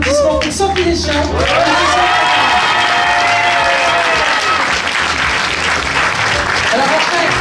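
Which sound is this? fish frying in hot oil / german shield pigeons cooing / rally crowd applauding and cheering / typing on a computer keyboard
rally crowd applauding and cheering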